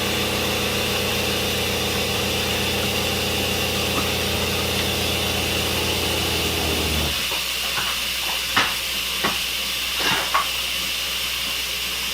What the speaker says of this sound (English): How the pump will run a minute and go off a minute instead of cycling really quickly.